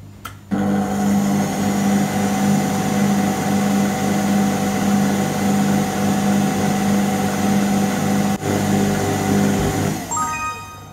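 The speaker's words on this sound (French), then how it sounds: "on va lancer le robot 30 secondes vitesse 2" A kitchen food processor runs for about ten seconds at speed 2, a steady, close motor whine with a constant hum that starts abruptly and winds down with a falling pitch at the end.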